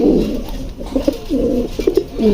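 Racing pigeons coo in a series of soft, low, rounded calls close by, several overlapping phrases repeating over a faint background hum with no talking.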